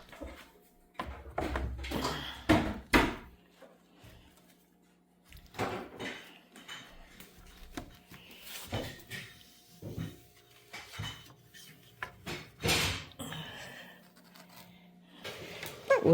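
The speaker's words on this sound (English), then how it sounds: "the noise you're hearing is Jody putting her dishes away" Dishes being put away in a kitchen: scattered clinks, knocks and clatters of plates and cupboards come in bursts separated by quiet gaps, somewhat distant and fairly soft.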